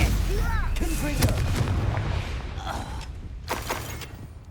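Confringo fire spell explosions in Hogwarts Legacy, several booming blasts and crackling impacts in a busy battle mix, with voices and other spell effects over a dense rumbling bed.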